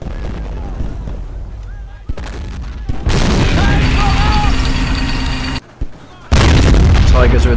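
Tank cannon fire from Tigers and T-34s in the Men of War: Barbarossa video game, with heavy booms and gunfire over rumbling engines; loud bursts come in sections amid a dense battle din.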